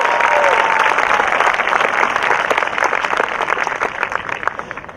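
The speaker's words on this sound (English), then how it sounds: "Can we get another round of applause for Andrew?" A high school graduation ceremony audience claps in a dense, sustained round of applause that is loud at first and gradually thins, with a voice briefly audible over it.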